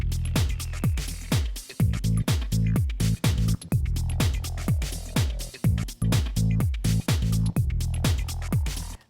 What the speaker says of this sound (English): Now for the bass line, I'm using this preset called Creep Bass in Operator.